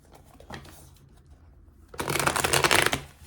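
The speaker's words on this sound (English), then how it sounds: "That felt like a weird shuffle to me." A deck of tarot cards is shuffled close by: quiet handling and a small riffle at first, then a loud, busy second-long shuffle of fluttering cards near the end, with no speech.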